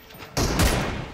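Gunfire in a mobile shooter, an M24 team deathmatch: a quiet lead-in, then a sudden loud burst of rapid shots that holds and crackles for most of a second.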